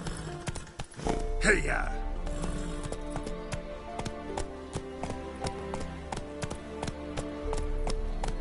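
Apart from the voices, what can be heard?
horse Roach galloping, hooves, from video game Witcher 3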